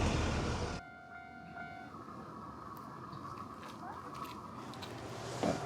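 A local train on the rural Sangi Line railway in Mie, Japan. A loud rush at the start drops to a steady rolling rumble with sustained horn-like tones, then a faint squeal near the end.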